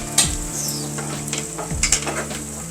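Ginger-garlic paste frying in a pan for a spicy prawn garlic curry: a steady close sizzle with a few scraping stirs, no voices.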